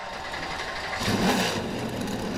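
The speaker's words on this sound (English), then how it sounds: "And now the engines have fired, and we are set for 300 laps." A field of NASCAR stock car engines at Bristol Motor Speedway roars to life together, a loud, dense rumble that swells and keeps droning.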